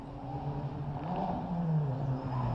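A 2008 Ferrari with a 4.3-litre mid-engine V8 revs at a hillclimb, a steady engine drone with shifting pitch held at a moderate, fairly distant level for a few seconds.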